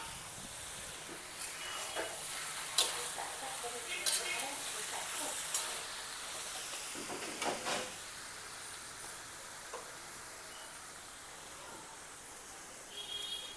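Boiled peas are added to a hot pan, where they sizzle and hiss softly as a utensil stirs them with scraping taps, while someone speaks over the cooking.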